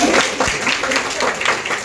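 Brief, steady applause from a seated audience greeting a prize winner at a monthly exam award ceremony, a continuous close wash of many hands.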